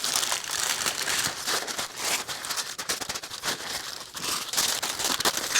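Aluminium foil crinkles and crumples as a beef brisket with rendered beef tallow is wrapped for resting, a close, steady stream of crisp rustling with bursts of louder crunching.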